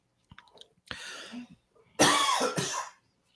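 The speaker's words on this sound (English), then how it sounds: "It was a cough" A person coughs a few times, caught on an almond piece stuck in the throat; the fits are close, harsh and sharp, broken by short pauses, with one louder burst near the end and no talk.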